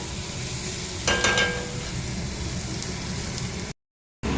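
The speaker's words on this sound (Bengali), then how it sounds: "পেঁয়াজটাকে ভালো করে ভেজে নেবো লাল লাল করে" Onions sizzling in a pan as they brown, a steady close hiss with a brief louder crackle near the start, broken at the end by a short moment of silence.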